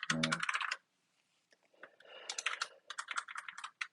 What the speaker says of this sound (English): all we have to do is type this in